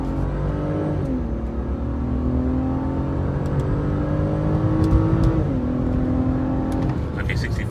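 A 2006 BMW 325Ci pulls hard under acceleration on a road test, steady engine drone rising in pitch with shift drops near one and five and a half seconds, heard continuously from inside the car.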